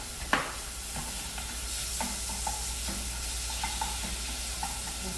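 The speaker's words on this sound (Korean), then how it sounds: "냄비에 참기름을 둘러 주시고요. 고기를 먼저 볶아 주시겠습니다." Meat stir-frying in sesame oil in a pot, a soft steady sizzle with light scraping stirs and a few clacks of a utensil, close and fairly quiet, with no talk.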